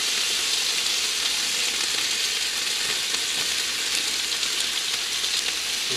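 Sausages, bacon and mushrooms fry on a caravan hot plate, making a loud, close, unbroken sizzle that holds steady throughout, with no voices.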